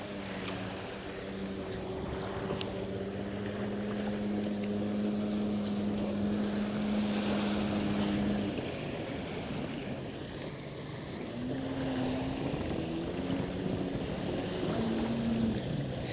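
Yamaha and Sea-Doo personal watercraft running on a lake, their engines whining steadily and close under wind and splashing water, with pitch shifts late as the throttle changes.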